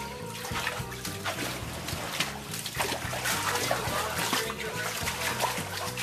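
Flash flood water from a supercell storm in Melbourne rushing steadily through the side of a house, a loud continuous wash of splashing and gurgling close by.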